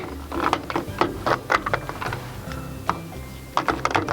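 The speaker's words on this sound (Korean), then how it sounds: "여기 왼쪽에 찰칵 찰칵 소리가 날 때까지 차!" Plastic cube parts of an Animal Force Ride King toy robot snap together in a quick series of sharp, close clicks, some clustered and some spaced apart, with faint handling noise between.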